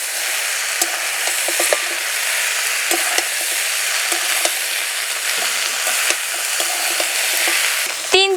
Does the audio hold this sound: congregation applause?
no